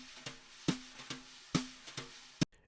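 Jazz drum loop on a brushed snare plays a sparse pattern of sharp hits with resonant snare ring between them, under a soft hiss of brush noise, quiet and dry, with no voices.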